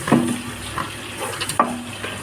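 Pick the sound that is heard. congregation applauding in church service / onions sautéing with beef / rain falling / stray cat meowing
onions sautéing with beef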